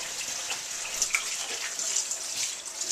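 Running water washes over skin and splashes, a steady close hiss with small drips and splatters.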